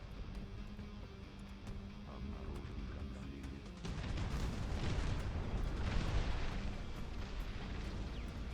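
Howitzer artillery fire booms in a video game, a low rumbling barrage that swells midway and rolls on continuously, fairly distant and without speech.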